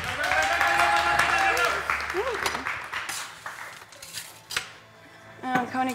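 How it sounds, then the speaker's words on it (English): An audience at a bartending competition's final speed round applauds briefly while a host talks over it, then the clapping gives way to speech and clinks of glassware and bar tools. "Round of applause for Karina."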